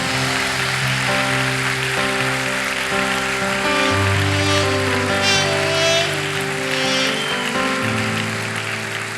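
A church congregation imitates rain together, probably with hands, producing a steady rushing patter like rainfall over sustained keyboard chords that play throughout.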